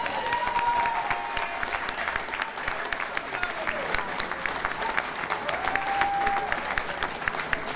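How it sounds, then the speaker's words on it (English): An audience at a candidates' evening event claps steadily for both candidates, a sustained dense applause filling the room with no break. "can we have a round of applause for both the candidates"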